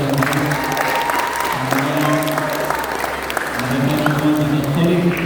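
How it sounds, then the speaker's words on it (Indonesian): Sustained audience applause at a cultural event, steady and full throughout, with voices and crowd noise mixed in beneath the clapping. "Kita beri tepuk tangan kepada kita."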